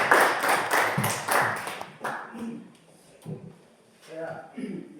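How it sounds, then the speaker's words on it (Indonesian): A short burst of applause for a group presentation in a classroom, a quick flurry of clapping at the start, then scattered taps as someone talks over the fading sound. "Baik, ya kita beri aplaus ya."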